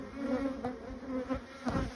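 Honey bees humming around an open beehive split made from frames of other colonies, a close, steady drone that swells and dips, with a few louder passes as individual bees fly near.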